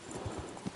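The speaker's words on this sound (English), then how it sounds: "Why did you guys have to give me a slow horse?" A horse's hooves clip-clop in the video game Kingdom Come: Deliverance, three or four soft, evenly spaced thuds at a walking pace, fairly quiet and near.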